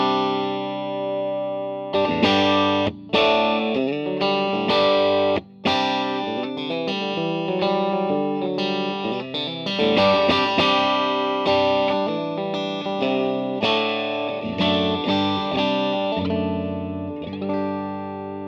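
Electric guitar played through a compact Vox AC MV50 amplifier with an AC30-style voice, ringing chords and riffs with light overdrive and effects, loud and continuous with brief gaps between phrases, no talking.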